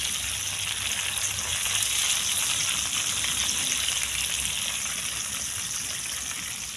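Garlic frying in a pan until golden brown while Jamaican-style rice and peas with crispy fried tilapia is cooked, a steady, dense sizzle running loud and unbroken throughout.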